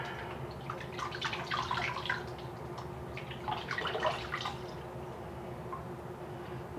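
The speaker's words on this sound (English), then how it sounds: "So just rinse her hair out." Water rinsing a Barbie doll's hair, a faint splashing trickle in uneven bursts over a steady low background hum, with no talking.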